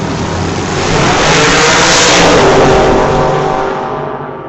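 A Shelby Mustang launching down a drag strip at an old-time drag racing event, its engine building to a loud, close roar that swells and then fades slightly as it pulls away.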